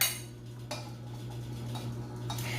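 A spoon stirs lemonade sweetened with honey, with a few light clinks and taps against the container over a quiet, steady hum.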